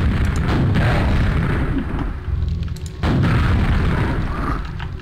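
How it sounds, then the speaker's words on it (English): Rapid launcher fire and heavy booming explosions from homing missiles in a video game, loud and continuous with dense low rumble and a brief dip midway before the blasts resume. "it fires fast. Has homing missiles."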